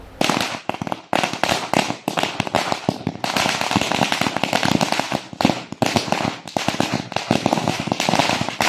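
KSU activists set off firecrackers at Kannur University headquarters in celebration, a dense, rapid string of loud crackling bursts that continues without pause.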